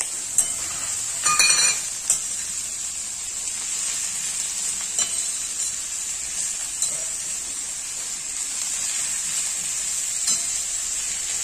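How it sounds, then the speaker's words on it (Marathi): Chopped wild greens stirred into a hot spiced tempering with cooked chili powder sizzle steadily and close up, with occasional scraping clatters from the stirring spoon early on and no talk. "हे छान मिक्स करून घ्यायचं या फोडणीमध्ये"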